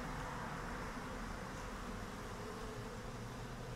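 Honeybees buzz in a dense, continuous drone as they leave a hive, a close, steady hum with no pauses and no voices.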